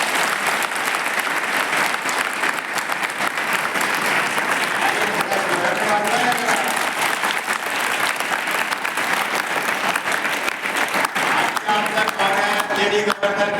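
An audience claps loudly and steadily for a long stretch after a speech, a dense and unbroken wash of applause from a large crowd in a hall.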